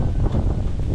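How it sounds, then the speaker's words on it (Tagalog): Strong wind gusting across an open area by the water, a steady loud rush with low rumbling buffeting against the microphone, no voices. "Grabing hangin to."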